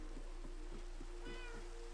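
A faint, short cat meow from a Minecraft video game, rising briefly over steady water-like background noise.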